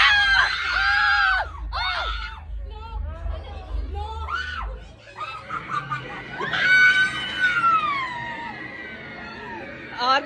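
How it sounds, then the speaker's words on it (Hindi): People scream repeatedly on a fairground ride at a mela, shrill high-pitched shrieks rising and falling in several bursts, with laughter and crowd noise mixed in and a low mechanical rumble under the first half. "क्या चीखे मारी है, पागल है।"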